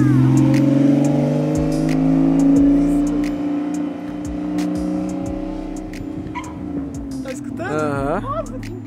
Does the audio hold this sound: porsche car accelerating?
yes